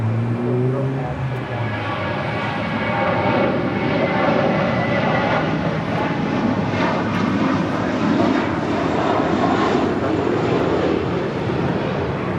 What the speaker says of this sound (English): That is American Flight 2 departing to JFK on an A321.